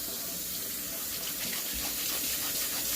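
Cold water gushing steadily from a tap into a sink while brushes are rinsed, a continuous close broadband rush with no pauses and no voices.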